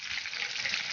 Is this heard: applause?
no